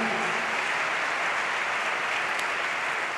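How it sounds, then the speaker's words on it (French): A dense wash of audience applause at a church gathering, steady and even throughout with no talk over it. "Vous pouvez applaudir."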